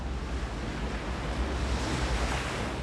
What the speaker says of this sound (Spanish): Solo el océano.